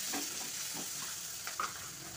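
Green chillies slit lengthwise drop into hot tempering oil for a peanut kuzhambu. They make a steady, close hiss with a few soft spoon scrapes and one brief sharper crackle.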